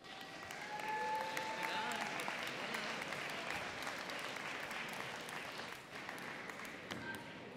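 Sustained crowd applause at a high school senior convocation for graduating honors seniors, a steady dense patter of many hands at moderate distance, holding evenly the whole time without voices on top.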